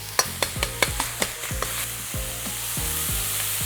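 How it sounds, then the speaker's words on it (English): Ground pork crumbling and frying in a hot pan for Sichuan mapo tofu, with a steady sizzle under a series of sharp, rhythmic scrapes and taps of a utensil against the pan, close and fairly loud. "What I'm doing here is I'm just crumbling up the pork nicely."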